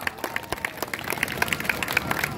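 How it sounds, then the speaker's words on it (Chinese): A small audience at an outdoor weekend-night street performance at Tainan's Fisherman's Wharf gives a short burst of steady applause, many hands clapping at moderate distance with faint crowd murmur underneath. "掌声邀请 Michael"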